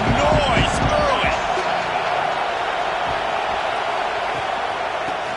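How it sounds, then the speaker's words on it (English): A packed football stadium crowd at an Ohio State game sends up a dense, steady roar that stays loud throughout, with a few sharp thumps near the start and a commentator talking over it. "This crowd bringing the energy and noise early."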